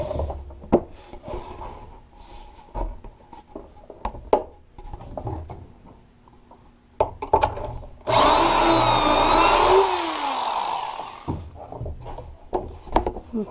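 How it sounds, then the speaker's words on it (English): A power drill bores into the wood of a Montessori puzzle cabinet. Scattered knocks and handling clatter come first, then a loud continuous whirring burst lasting about three seconds before the knocking resumes. "so I got the top drilled, I've got the back drilled"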